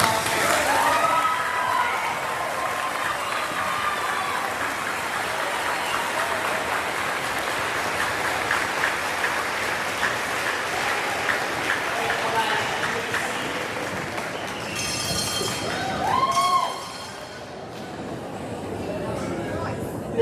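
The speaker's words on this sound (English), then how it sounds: "Please give a big round of applause." Audience at a Lisha Kill school moving-up ceremony claps, a broad, steady wash of crowd applause in a large room that tapers off near the end, with some voices and a speaker breaking in.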